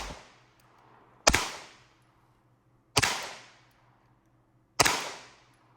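The slide of a Sig Sauer 365 Fuse pistol is racked three times, each a sharp, close metallic snap with a brief ringing tail, spaced about two seconds apart in a quiet room.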